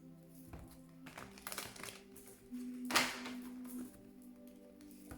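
Angel oracle cards are shuffled by hand in a few soft, papery riffles and taps, close and quiet over a faint hum.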